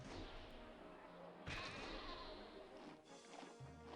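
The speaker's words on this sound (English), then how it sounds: "The sheep are getting culled." Sheep bleat in the city-building video game Caesar 3, a couple of short nasal calls over soft game ambience with a sharp knock midway, fairly quiet and without talk.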